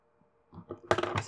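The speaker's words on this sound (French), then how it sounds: "Ces ciseaux ne coupent pas grand-chose." Scissors snip loose threads while a zip is sewn in by machine: a short cluster of soft, crisp cutting clicks, close and fairly quiet, after a brief silence.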